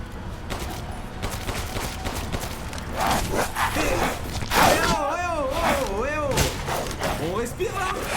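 Shotgun fire in Resident Evil Village, several sharp blasts among game combat noise, with shouting voices and cries layered over the gunfire in the later half.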